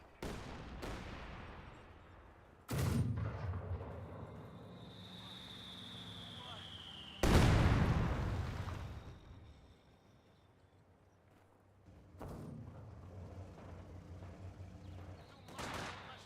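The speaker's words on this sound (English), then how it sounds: "120mm mortars barraging that area." A 120mm mortar barrage in Company of Heroes 2 brings sharp, heavy booming impacts at irregular intervals, some near and loud, with a whistling shell and rumbling battle noise between them, under a commentator's voice.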